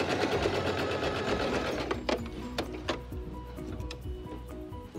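A sewing machine runs fast on a cloth face mask seam, then slows into sparse ticks and clicks as it reverses and stops, close by with no voices.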